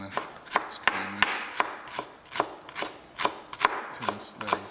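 A knife chopping shallots on a board at close range, about a dozen sharp, fairly evenly spaced cuts with no voices.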